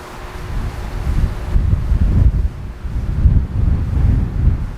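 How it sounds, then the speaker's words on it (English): Loud, steady rumbling buffets of wind striking a microphone outdoors beside a Kubota BX25D tractor, gusting continuously throughout with a low roar. "Wow, it's windy"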